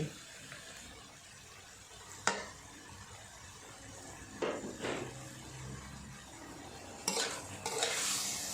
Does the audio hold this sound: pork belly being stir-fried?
yes